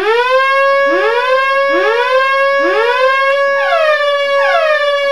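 A Memorymoog analog synthesizer tone with inverted envelope modulation repeatedly sweeps in pitch, each note bending from low to high in a steady rhythm, loud and alone with no talking.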